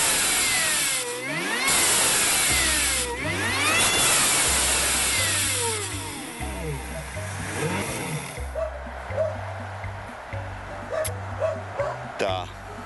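A video game car engine revs hard in sweeping rising and falling pitches, loud and continuous, while someone talks excitedly over it and stepped low tones pulse underneath.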